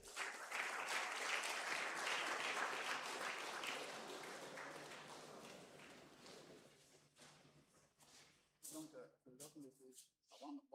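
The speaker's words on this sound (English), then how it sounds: "So let's give a round of applause." A conference audience at an international gathering breaks into dense sustained applause that gradually thins and fades, ending in scattered claps and a few voices.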